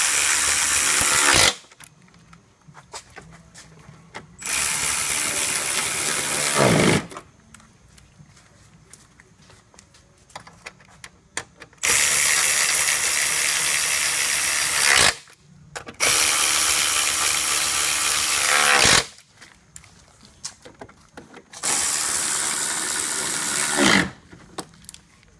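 Bursts of a power ratchet or impact tool tightening bolts on the front end of a 2006-2008 Audi A4 2.0T, several loud runs of a few seconds each separated by quiet pauses, close by with no talk.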